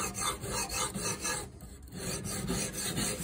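A knife blade is rubbed back and forth on fine-grit sandpaper, around 400 to 1200 grit, in close rhythmic rasping strokes with a brief pause midway.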